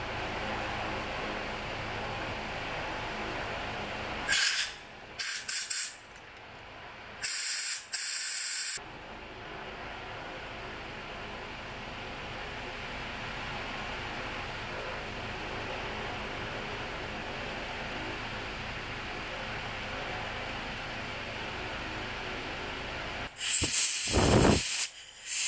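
Lacquer thinner sprays in short hissing bursts onto engine injectors and fuel rails of a water-damaged V4 Quadzilla motor. Several quick blasts come early, then a longer spray near the end, all over a steady background hiss.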